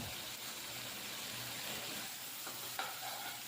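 Stirring vegetable wonton filling with pepper powder, soy sauce and tomato sauce in a pan, a steady soft scraping and faint sizzle running continuously, close and even, with a brief clink near the end and no talk.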